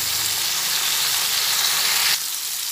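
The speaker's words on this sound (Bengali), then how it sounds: "নুন, হলুদ আর কাশ্মীরি লঙ্কার গুঁড়ো দিয়ে এটা ভেজে নিচ্ছি।" Sliced pointed gourd fries in hot oil with salt, turmeric and Kashmiri chili powder, giving a loud, steady sizzle that drops slightly in level near the end.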